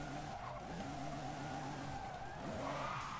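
A car in the Forza Horizon 5 racing game drifting with sustained tire squeal and skidding over a droning, revving engine, loud and continuous throughout.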